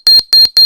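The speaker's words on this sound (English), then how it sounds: "the antenna beeps when the crystal is not touching the contact sensor" Three loud, sharp electronic video game beeps from an antenna in Robot Odyssey, in quick regular succession, each a high piercing tone with a short pause between.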